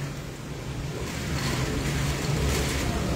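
Strong storm wind roars outside a house during a severe storm, a steady broadband rush that swells louder in the second half, with no speech.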